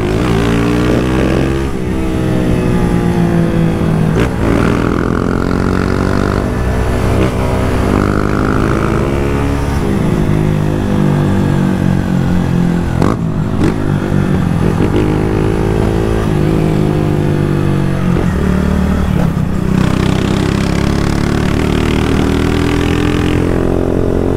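A Honda Start 160 motorcycle fitted with a thin-bend GRS exhaust revs loudly and continuously close by, its engine note rising and falling through repeated throttle blips and sustained pulls with no talking.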